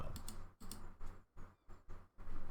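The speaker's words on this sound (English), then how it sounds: "I'm trying to type over my microphone." Close typing on a computer keyboard, short bursts of rapid key clicks separated by brief pauses, with no voice heard.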